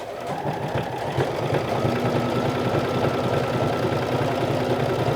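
A sewing machine runs a triple stretch stitch with white thread along a half-inch seam, giving a loud, continuous, close-up mechanical chatter with an even rhythm throughout.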